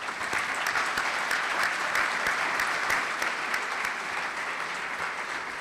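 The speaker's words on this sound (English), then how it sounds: "Please join me in giving them a round of applause." Conference audience claps in a sustained, dense burst of applause, steady and fairly even from start to finish, heard from a distance in a large hall.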